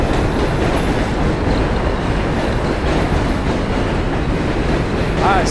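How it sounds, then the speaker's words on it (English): New York City subway trains pass close by, a loud steady rumble with rattling and clattering wheels and a brief high squeal near the end. "A lot of trains crossing today."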